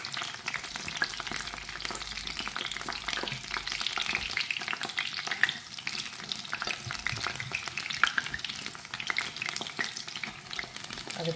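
Vada frying in hot oil for a catering batch, a dense continuous crackling sizzle with occasional sharper pops, steady and close, with no talking.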